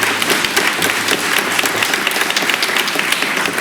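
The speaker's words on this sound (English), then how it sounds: "I think you deserve a round of applause" Audience applause at a judges' swearing-in ceremony hosted by the New York mayor, a loud, dense, continuous patter of many hands clapping, close and even in level for the full span, with no speech over it.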